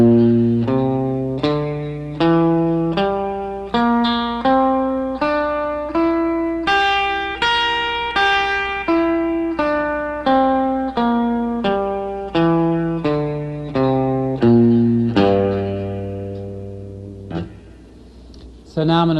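An electric guitar plays a five-note pentatonic scale variant that uses E natural in place of F, in a blues lesson. Single clean notes climb and then descend in an even rhythm, ringing with light reverb and no talk over them.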